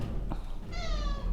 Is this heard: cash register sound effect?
no